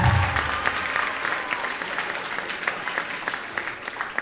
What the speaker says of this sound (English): Can we have a round of applause for Josh, Emma, Nikayla, Elan,